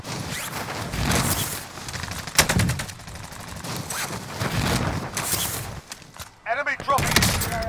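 Gunfire in the video game Call of Duty: Modern Warfare: busy, dense rattling bursts and distant shots layered over a continuous battle din, with a brief beeping effect near the end.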